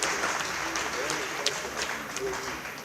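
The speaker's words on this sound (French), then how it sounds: "Mais qu'on applaudisse alors" At the Couleurs du Congo rumba festival, the audience gives scattered applause in a loud, noisy crowd setting, and someone speaks in French over the clapping.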